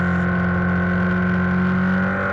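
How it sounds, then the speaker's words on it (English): Racing boat engines at the start of a Formula Femme final, a loud, sustained mechanical drone with strong steady harmonics and no voices over it. "Revs are up."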